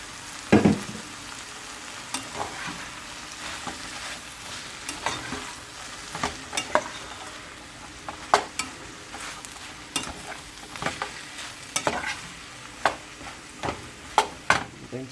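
Broccoli tossed and stirred in a hot frying pan, with a steady sizzle under repeated sharp scraping and clatter of the utensil against the pan, close up and with no talking.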